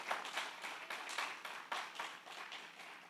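A church congregation claps together during a Wednesday worship service, steady overlapping handclaps carrying at moderate distance with no voices over them.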